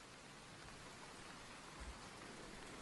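Steady rain pours down on a Devon farm in a wet summer, a dense, even hiss with no breaks, fairly faint and uniform throughout, no voices.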